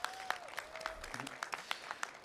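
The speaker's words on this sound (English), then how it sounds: "Let's get a round of applause," Audience applause at an outdoor Pride flag ceremony at Pasadena City Hall, honoring a community center president: a steady patter of many hands clapping, fairly faint and distant, with a few sharper claps standing out.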